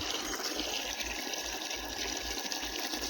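Water gushes steadily into a vessel in a home kitchen, a continuous rushing pour that stays fairly close and even throughout, with no talking.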